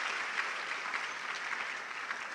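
Steady audience applause rings out at a university e-learning week event after a Volta region cultural display by the Center for National Culture, dense and even throughout with no speech.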